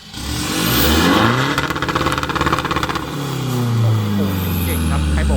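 A Ford Ranger four-door pickup truck engine revs hard in repeated blips, loud and close, with a rough pulsing idle between bursts.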